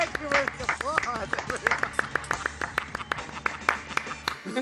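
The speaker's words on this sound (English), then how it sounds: "Thank you for the applause." Scattered claps from a small audience greet a host on a sports talk show. The sharp, separate hand-claps come in an irregular run beneath a voice, which talks over them.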